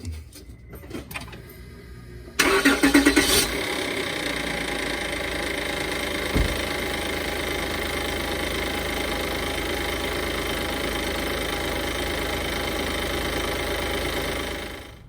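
A 2005-2010 Honda Odyssey engine cranks briefly and catches, then settles into a steady, even idle close by after power steering hose replacement, with a single faint knock partway through.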